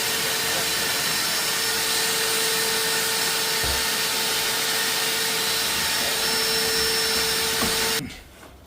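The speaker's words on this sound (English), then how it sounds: "I'm going to use the vacuum cleaner to get any loose stuff out of it" Vacuum cleaner running steadily as it sucks loose debris out of a Pelpro PP130 pellet stove, a loud continuous drone with a faint whine, cutting off abruptly near the end.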